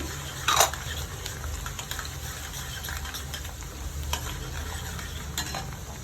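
Garlic sliced lengthwise frying in oil for a fenugreek mango pickle gives a soft, steady sizzle, with scraping stirs and a brief louder clatter early on.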